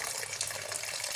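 Warm tap water running steadily into a sink to wash baby potatoes, a close, continuous splashing hiss over a short moment with no talking.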